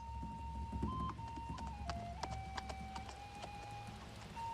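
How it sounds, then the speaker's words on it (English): Horse hooves clip-clop in a Barry Lyndon film scene, a faint irregular series of knocks under a sustained musical tone and low background rumble. "Get down off that horse."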